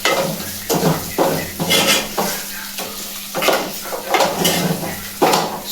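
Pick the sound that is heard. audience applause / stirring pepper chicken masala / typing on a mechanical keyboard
stirring pepper chicken masala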